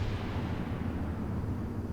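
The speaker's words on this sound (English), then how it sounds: "Sending in lots of angry rounds, seeing some explosions there." Battleship naval gunfire and explosions in a video game rumble as a dense, continuous low boom, with distant volleys blending into one muffled roar.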